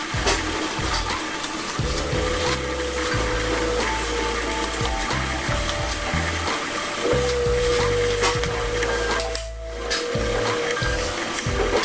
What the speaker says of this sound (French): vous donc séchez avec l'aide du sèche-cheveux en fait